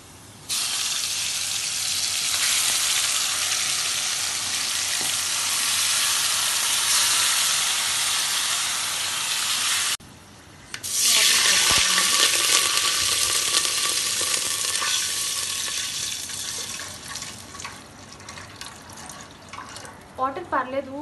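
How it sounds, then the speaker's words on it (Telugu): Marinated chicken goes into a pan of golden fried potatoes for chicken biryani, giving a loud steady sizzle that breaks briefly, then surges and slowly fades with crackles near the end. "ఇప్పుడు ఈ పొటాటో గోల్డెన్ కలర్ వచ్చింది కదా, ఇప్పుడు మనం మ్యారినేట్ చేసుకున్న చికెన్ని వేసేయచ్చు."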